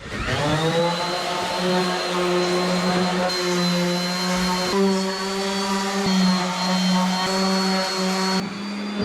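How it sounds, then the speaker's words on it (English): An electric sander works over old wooden deck boards, a steady loud whine with a strong hum that shifts slightly in pitch as it moves, continuous throughout. "And so Zach ended up going over every surface again with a sander this time."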